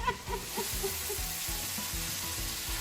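Fish frying in a pan of spiced masala with blended coriander leaves, a steady close sizzle with soft rhythmic stirring and scraping running underneath.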